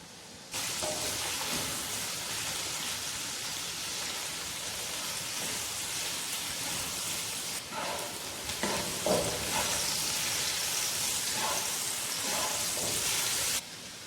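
A large chopped onion is dropped into hot oil for Balochi mutton chops and bursts into loud, continuous sizzling, with stirring and a few clinks over the steady frying hiss.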